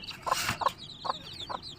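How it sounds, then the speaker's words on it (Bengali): Chickens cluck in short repeated bursts while feeding together, close by, with faint chirping in the background; no one speaks. "মুরগি সব একসাথে খাচ্ছে"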